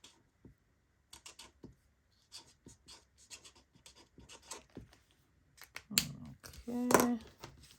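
A pen writes a name on a package while orders are packed for a small online shop: soft, scattered scratchy strokes in short bursts, then a louder rustle and scrape near the end, with no talk.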